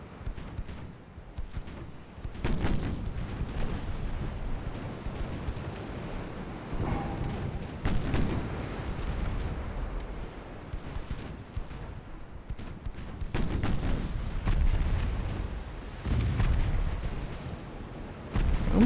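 Naval 7-inch guns fire in the Ultimate Admiral Dreadnoughts naval warfare game, a series of deep, rumbling booms at irregular intervals that rise and fade over a low, continuous roar.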